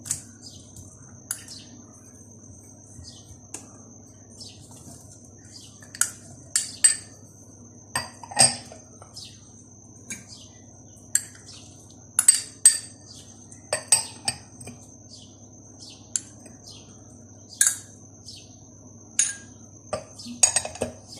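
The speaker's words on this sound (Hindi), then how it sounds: "तो मैंने अच्छा सा तमाम फ्रूट्स को मिक्स कर लिया है" Fruit chaat is mixed in a small bowl with a spoon, giving scattered sharp clinks and scrapes at an uneven pace over a quiet, low background hum.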